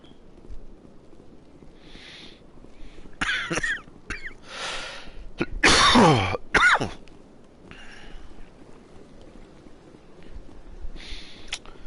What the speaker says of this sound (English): I don't mean to keep coughing like that